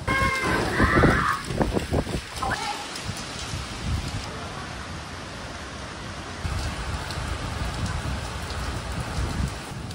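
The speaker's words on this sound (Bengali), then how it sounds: "পুরো বৃষ্টি একদম বাইরে।" Heavy rain pours steadily outside, a dense hiss of drops on surfaces that carries on throughout, with people talking nearby early on before the downpour dominates alone.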